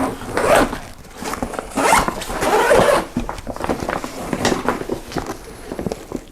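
Zipper opening on a Goruck Kaidan GR2 backpack: several quick, close, loud zipping pulls in bursts, followed by rustling and handling of the bag's fabric.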